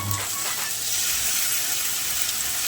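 Onion paste frying in a pan for a home-style Bengali fish curry, a steady bright sizzle that holds constant from start to finish, close and fairly loud, with a few faint stirring knocks near the beginning.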